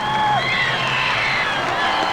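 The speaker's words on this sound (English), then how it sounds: "fans on both sides expressing appreciation to their teams" Football fans at a 1992 state championship game in the Silverdome applaud and cheer their teams in the closing seconds, a steady dense crowd roar with cheering and whistles filling the stadium throughout.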